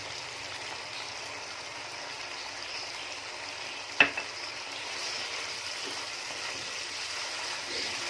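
Chopped green chillies tossed into chicken frying in ghee in a pan, a single sharp sizzling hit followed by a brief flare, then a soft, steady fry continues close by without speech.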